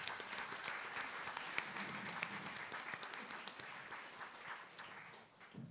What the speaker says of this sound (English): let's give a round of applause to our wonderful panel here today and for the audience